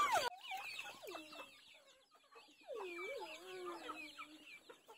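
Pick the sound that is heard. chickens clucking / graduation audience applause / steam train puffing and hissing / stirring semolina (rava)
chickens clucking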